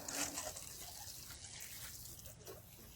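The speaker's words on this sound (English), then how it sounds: "so we're just going to water those plants initially" Water pouring onto newly planted garden plants, a soft, faint splashing and trickle with brief drips, fairly quiet and continuous.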